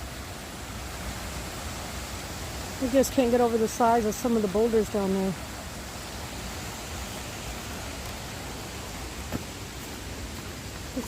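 A boulder-strewn river flows beside a hiking trail on the Appalachian Trail in Vermont, a steady moderate rushing hiss throughout, with someone speaking briefly over it in the middle.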